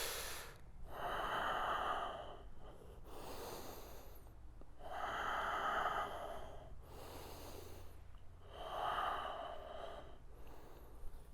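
Deep, slow breaths during a mobility stretch, three long inhale-exhale cycles with an airy, rushing quality, close and steady with short pauses between.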